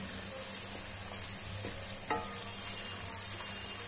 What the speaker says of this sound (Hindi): अब इसको भी इतना ब्राउन करूंगी जब तक इसका कच्चापन खत्म नहीं हो जाता